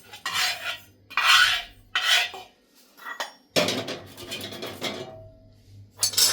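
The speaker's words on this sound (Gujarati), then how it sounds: "હવે મેથીને જરાક આપણે ખાંડણીમાં ખાંડી નાખવાની છે" Roasted fenugreek seeds pounded in a mortar in a home kitchen, sharp clinking knocks landing in uneven bursts with short pauses, close and fairly loud, no voices.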